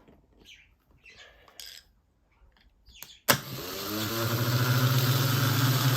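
A solenoid is powered on a test rig during a Holden HZ One Tonner build. Faint scattered noises give way to a sharp click, then a loud, steady whirring motor sound that holds to the end.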